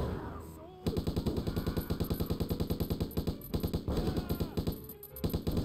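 Mounted gun in the zombie video game Stubbs the Zombie fires in long, rapid repeating bursts, loud and close, with a brief lull partway through before the hammering resumes.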